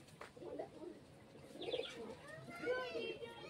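A Jamni pigeon coos softly in short, low, throaty phrases with some faint chirps and background noise around it, fairly quiet and close.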